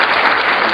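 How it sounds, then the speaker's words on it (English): Short burst of canned applause from a sound machine, a dense, loud wash of clapping that lasts under a second. "I just had to applaud to that"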